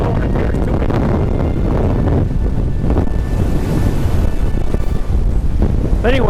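Strong wind buffeting the microphone at a mountain fire tower, a loud, constant low roar with gusty rumbles throughout and no clear break.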